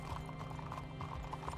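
Horse hooves clip-clop steadily in the Red Dead Redemption 2 video game, an even rhythmic trot over low game music, with no talking.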